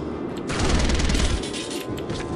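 Suppressed submachine gun firing in the shooter game Soldier of Fortune, a dense burst of muffled rapid shots running about a second, then quieter game ambience and a faint trailing shot, with no talking.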